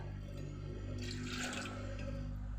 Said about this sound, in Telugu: ఇప్పుడు కొంచెం వాటర్ పోసుకుందాం